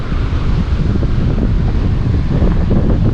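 Strong, steady wind roars and buffets the microphone beside a big coastal cliff near East Cape, New Zealand, a continuous loud rumble with possible surf underneath and no voices.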